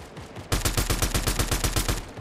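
Rapid automatic gunfire in a battle royale video game bursts in suddenly and continues as a loud, steady stream of shots with no talk over it.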